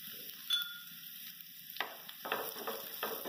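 Ground spices such as asafoetida, turmeric and coriander powder stirred through hot oil in a frying pan for a yogurt okra curry, giving a soft steady sizzle with a few scraping spoon strokes near the end.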